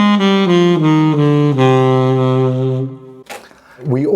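A saxophone plays a D harmonic minor scale as a jazz improvisation exercise, sustained stepwise notes ringing loud and close for about three seconds before a breath and a brief instrument or mouth noise.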